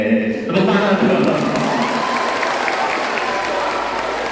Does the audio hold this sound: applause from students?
yes